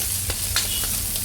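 Chopped onions hiss and sizzle steadily in a hot pan for squid adobo, with brief stirring scrapes rising now and then over the continuous frying.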